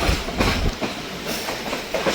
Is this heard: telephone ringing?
no